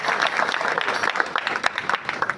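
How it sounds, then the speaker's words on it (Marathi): Audience applause at a Mahanubhav temple gathering in Bhusawal, honouring a revered Baba after his talk; a dense, continuous crowd of clapping hands, moderately loud and steady throughout, with no speech. "आपण सर्वांनी बाबांसाठी जोरदार टाळ्या वाजवायच्या आहेत"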